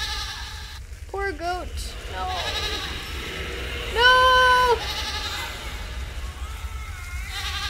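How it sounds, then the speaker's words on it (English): A goat bleats in a horror video game: a few short wavering bleats early on, then one louder drawn-out bleat in the middle, heard amid eerie game ambience with a brief spoken exclamation. "Oh. Poor goat. No."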